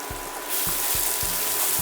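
Tomatoes and hot pepper fry in a pot, a steady hiss of sizzling that swells louder after the first half-second, with soft periodic knocks as the food shifts in the pan.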